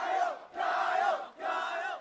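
A crowd of more than 70 people at a large party in Normal during the pandemic roars and cheers in three loud, sustained bursts with brief dips between them.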